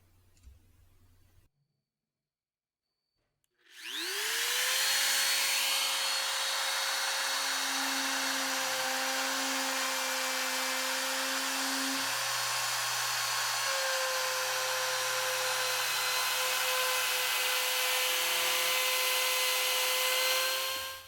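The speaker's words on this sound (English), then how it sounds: "Using this round nose bit in a trim router, I'll clamp the board down against a straight edge fence that the router can run along to cut a juice groove" A trim router fitted with a round nose bit runs loud and steady as it cuts a juice groove into a wooden cutting board along a clamped straight-edge fence, spinning up sharply after a brief quiet start and holding a sustained high whine.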